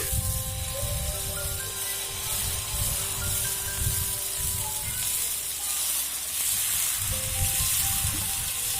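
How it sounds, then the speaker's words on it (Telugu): Little millet dosa batter sizzles and hisses steadily on a hot pan, a continuous close frying sound with faint background tones. "నేను ఇప్పుడు ఇదే పిండితోనే దోశ వేస్తున్నాను అన్నమాట"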